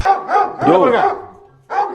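A dog barks and yips in quick, close, loud bursts while people talk excitedly nearby, the calls rising and falling with a brief pause before a final bark.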